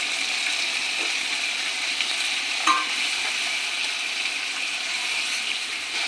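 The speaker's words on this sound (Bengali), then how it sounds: "ভালো করে কষে নিই" Onion and spice paste is stirred and fried in hot oil for an egg curry, giving a steady, even sizzle with a soft scrape of the spoon partway through, close and unbroken, with no voices.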